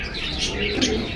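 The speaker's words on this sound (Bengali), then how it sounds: "কবুতরটা দেখেন কিন্তু মাশাল্লাহ" Pigeons kept for sale at the Jinjira bazaar pigeon market coo softly close by, a brief, low murmuring call over steady background noise.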